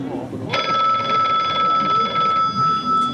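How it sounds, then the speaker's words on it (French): A telephone bell rings loudly and close in a small café scene, a steady electronic ring starting about half a second in and holding for the rest of the clip. "le téléphone sonne"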